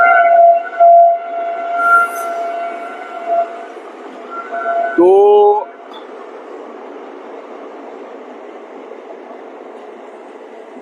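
A train rolls along a nearby railway track with a steady rumble, a sustained horn blaring early and a sharp screeching whine near the middle, then a fading rush; someone talks briefly.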